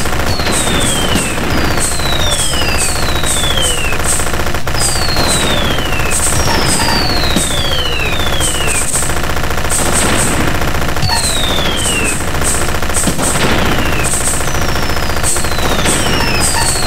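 Missiles fire in the Japanese space-shooter game Audiostrike as a dense, loud barrage of rapid electronic shots, with repeated descending whistles and bursts over a continuous game soundtrack.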